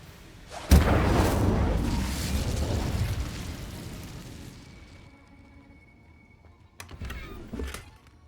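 A fire spell cast in a video game bursts with a sharp, loud blast, then a roaring whoosh of flames that slowly fades over several seconds, followed by a couple of quieter magical bursts near the end.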